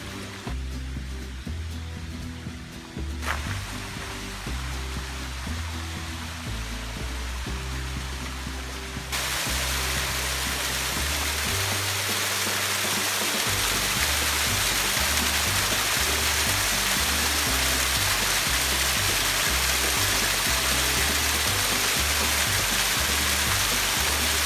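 A waterfall on a hiking trail in the North Etiwanda Preserve: a steady, broad rushing roar that swells noticeably louder partway through and then holds, with a low rhythmic thumping underneath.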